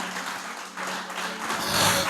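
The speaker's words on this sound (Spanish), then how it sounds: "Dele un aplauso al Señor" A church congregation applauds together in a steady, dense wash of clapping that swells slightly toward the end, close and continuous without speech.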